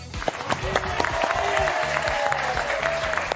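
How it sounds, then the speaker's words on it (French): A studio audience on a French television game show claps steadily to welcome the host, dense close applause with a few whoops and voices mixed in. "Et tout de suite, nous accueillons sous vos applaudissements Thierry Beccaro."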